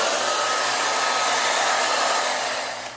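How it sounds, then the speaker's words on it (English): A hair dryer speeds the drying of a watercolor painting before masking fluid is applied, blowing as a loud, steady whooshing roar close by that holds for about three seconds, then tapers off at the end, with no talking. "I can help it to dry by using a hair dryer."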